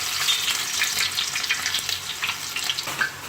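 Chopped onions frying in a pan for Kuttanadan duck curry, a steady close sizzle with crackling pops and faint stirring, no voices.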